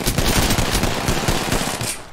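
Rapid automatic gunfire in the shooter game Apex Legends, a loud, dense stream of close shots lasting about two seconds before cutting off, with no talking.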